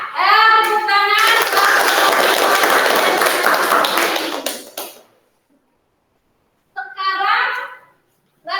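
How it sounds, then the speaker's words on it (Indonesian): Students in an online Google Meet class clap together, a dense burst of applause lasting several seconds, with a voice speaking before it starts and again after a short silence. "Tepuk tangan."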